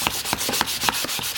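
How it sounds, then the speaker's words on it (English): A contoured sanding block wrapped in 220 grit paper rubs over a wooden chair, making quick, steady back-and-forth scratching strokes, close and loud with no other sounds. "now we'll just go over and give them a sand. I'm going to use 220 grit paper"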